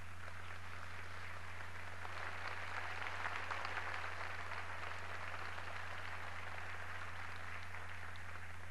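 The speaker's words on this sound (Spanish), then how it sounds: "Vilma Alanoca Mamani, a quien saludamos también con un fuerte aplauso." Faint, distant applause from a ceremony audience at an honorary doctorate event at an Argentine university, a soft steady wash of clapping under a constant low hum.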